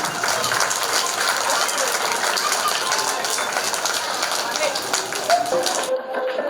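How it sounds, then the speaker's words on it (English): An audience at a school cultural event for junior kindergarten children claps in dense, lively applause that runs steadily before cutting off abruptly near the end, with some voices mixed in. "Come on, everybody, give a big round of applause for them."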